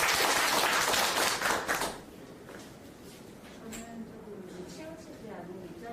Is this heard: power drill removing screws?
no